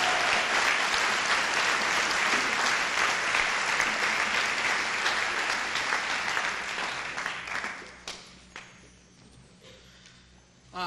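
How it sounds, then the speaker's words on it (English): An audience at a high school pops concert gives the seniors a sustained round of applause, loud and dense for several seconds before thinning into scattered claps and fading near the end. "So one more nice round of applause for our seniors who are moving"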